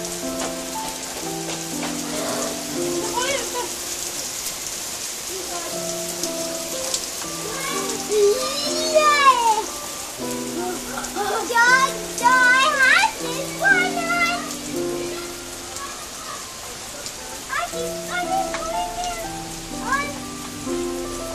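Steady rain hisses on a city road throughout, a dense constant wash, with people talking and calling out over it.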